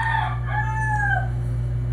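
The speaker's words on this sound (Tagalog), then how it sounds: "At maganda rin yung pagkakasabay ng tilaok ng manok." A rooster crows once, a clear rising-and-falling call over a steady low background hum.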